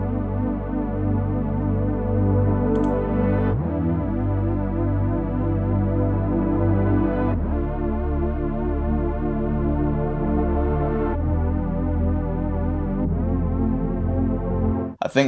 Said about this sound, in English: So that's our bass sound, I think.